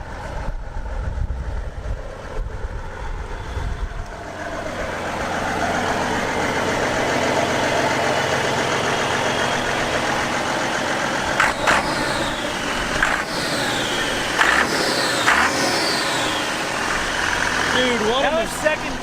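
A 1970s Ford F250 truck converted to a tractor diesel engine, idling in gear through a burnout, producing a loud, steady low diesel rumble after an initial burst, with excited voices talking over it and tire squeal near the end.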